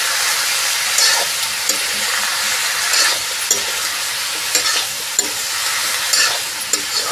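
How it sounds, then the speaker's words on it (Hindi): Pumpkin pieces being stirred and fried in a pan for a spicy village-style curry, a loud, steady sizzle broken by repeated scraping strokes of the spoon, close and alone. "और कुछ देर चलिए भून लेते हैं कद्दू को"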